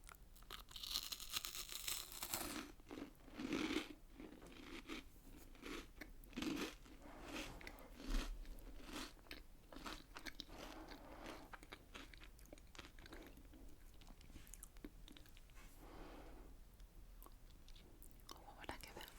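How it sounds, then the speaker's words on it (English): Biscuit being bitten and chewed up close, crisp crunches repeating in bursts with soft wet mastication between, quiet and intimate with breathy whispering in the background. "It was a good crunch."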